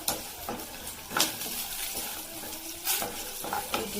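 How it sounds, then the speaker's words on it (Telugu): Cumin, mustard seeds and chana dal fry in a pan as a tempering for ivy gourd stir-fry, giving a steady close sizzle broken by several scraping stirs of a spoon against the pan. "జీలకర్ర, ఆవాలు, శనగపప్పు,"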